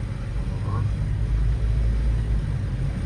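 A Saab 9-3 with a newly fitted transmission driving along, a steady low rumbling drone from the drivetrain inside the cabin, continuous and fairly loud with little change.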